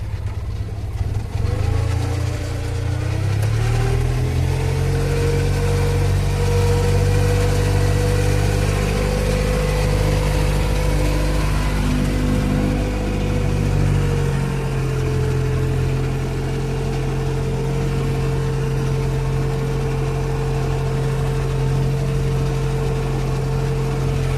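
A tractor engine runs steadily while spraying herbicide on a potato field, a loud, close, droning mid-pitched hum that rises in pitch after a few seconds and then holds level, with no voices.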